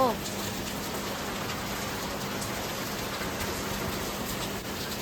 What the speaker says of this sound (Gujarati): આ વરસાદ તો અહીંયા પૂછવા નથી મૂકતો